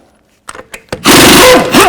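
Power tool with a 22mm socket spinning off a wheel on a 2007-2016 GMC Acadia, a few short clicks then a loud continuous whirring burst that runs to the end.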